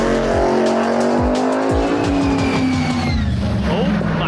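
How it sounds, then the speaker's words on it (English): A 1,500-plus horsepower alcohol-injected Chevy roars loudly down a quarter-mile drag strip, its engine note climbing steadily while tires squeal and the car rushes past. "Oh yeah, alcohol injected Chevy,"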